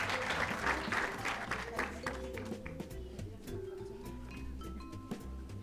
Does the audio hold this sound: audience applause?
yes